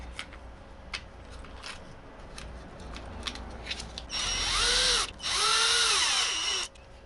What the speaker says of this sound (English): This is a 2 millimeter drill bit, so you make little tiny drill holes.